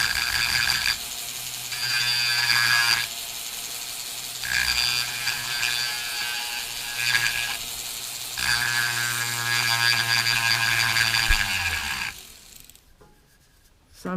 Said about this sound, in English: while I'm doing this with a dental drill, or even if I was on a grinder, I'm going to blow gently just to make the dust go somewhere else